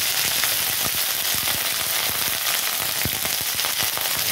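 Whole cumin seeds and ginger sizzling in hot oil for a shukto dal tempering, a loud, dense, steady frying hiss with scattered small pops and crackles, close up and with no talking.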